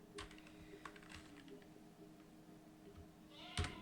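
Fingers tapping on a computer keyboard, a quiet close-up series of clicks in short bursts with gaps between them and a louder clack near the end.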